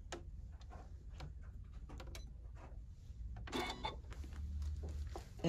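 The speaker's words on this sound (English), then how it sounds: "So we're just going to be sewing on the vinyl." Janome sewing machine stitching through two layers of vinyl, with a quiet, close, rapid ticking and clicking of the needle mechanism over a low motor hum, growing busier toward the end.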